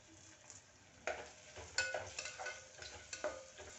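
Onion, crushed garlic and curry leaves fry in a pan, a low steady sizzle with spatula scrapes and stirring clatter that grow louder after the first second, no voices present.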